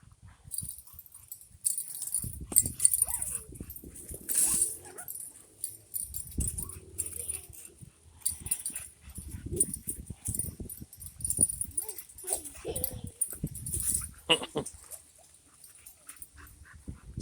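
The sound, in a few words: pit bull and puppy playing in yard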